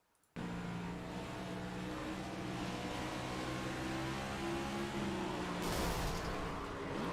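A NASCAR race car engine at Richmond Raceway in the iRacing sim drones steadily and loudly, with a rough, sustained tone and a brief rise near the end, no voices over it.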